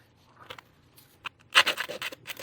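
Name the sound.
nail file filing resin pendant edge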